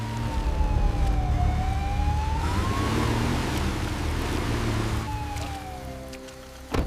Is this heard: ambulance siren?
yes